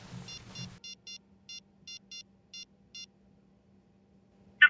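Phone number being dialed on a telephone: a quick series of eight short, evenly spaced keypad beeps, clear and alone, with a brief sharper tone at the end.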